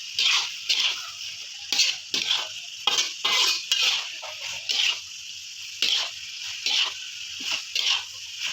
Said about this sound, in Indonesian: lalu kita oseng-oseng lagi ya teman-teman, seperti ini